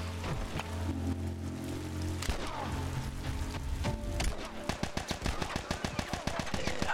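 Gunfire in The Last of Us, with a dense spray of shots in the second half. The rapid, closely spaced cracks sound loud and near over continuous game background noise, and a voice talks briefly early on.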